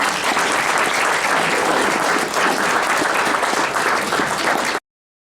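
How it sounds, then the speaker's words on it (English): Applause from a live storytelling-night audience, dense and steady at close range for about five seconds, then cutting off abruptly into silence. "Let's give Katie a nice round of applause."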